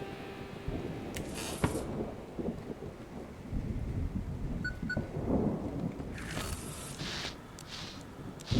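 Thunderstorm ambience in the video game Static Dread, with low rumbling thunder and a steady wash of rain running continuously, plus a couple of sharper crackling bursts near the start and end.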